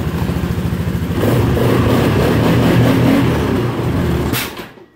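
A fuel-injected engine runs roughly just after a cold start: a loud, close, pulsing idle steps up to a fuller roar after about a second, holds, then dies away and cuts off.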